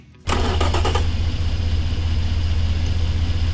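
A 4,193.9-horsepower long-stroke car engine in the game Automation catches and settles into a deep, steady, rumbling idle, loud and close, with no voices.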